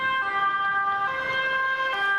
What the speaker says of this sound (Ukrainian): гучним гулом сирени швидкої допомоги, яка при наближенні до вас звучить все потужніше і все більш неприємно